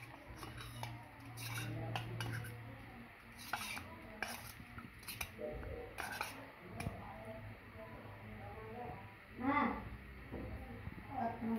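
Chocolate Oreo biscuit mixture being stirred in a bowl, a spoon scraping and clinking against the sides in repeated strokes, fairly close, with a voice talking over parts of it.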